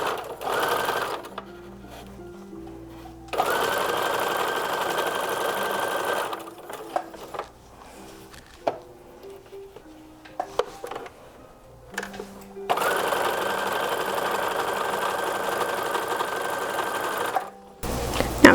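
A sewing machine runs in long, steady bursts with short pauses between them while stitching the shoulder seams of a 1930s-1940s style infant slip. The whirring motor is close and loud, with no talking.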